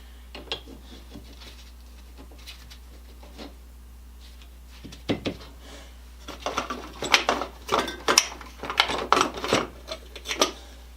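Sliding of a cleaned-up North Bros Yankee No 990 drill press vise, a series of close scraping, clicking metal rubs that pick up and repeat irregularly after a quiet start, alone without talk.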